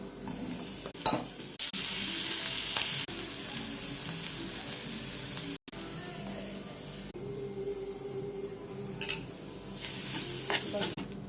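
Soaked chana dal and green chillies roast in a hot pan with a soft, steady sizzle and occasional stirring scrapes, close but fairly quiet.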